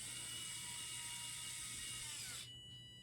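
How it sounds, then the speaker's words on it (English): A STREBITO mini electric screwdriver drives a screw in with a thin, steady high motor whine and a faint low hum, then drops off sharply near the end as it stops, close and quiet. "And now to put the other screw back in."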